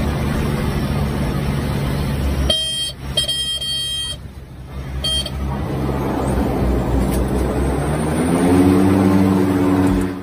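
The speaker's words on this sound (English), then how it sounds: "This amazing plane is landing on world's shortest runway." A plane landing on a very short 400-metre runway on a Caribbean island: a loud, steady engine and propeller roar runs throughout and swells near the end, with a brief buzzing beeping burst in the middle.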